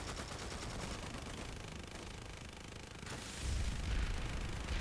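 Gunfire in the online shooter PlanetSide 2 rattles as a continuous stream of rapid shots, growing louder and heavier near the end, with no talk.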